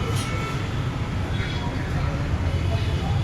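A metro train rides along with a steady, loud low rumble and broadband hiss throughout, heard from inside the carriage with no clear breaks.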